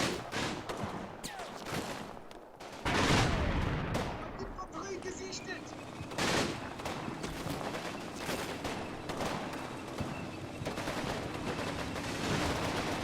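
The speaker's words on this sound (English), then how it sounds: "Oh, I just heard gunfire. I just heard a tank fire." Gunfire and tank cannon shots crackle through a WWII tank battle game, with scattered bursts of small-arms fire and heavier booming blasts rising and falling over continuous battle noise.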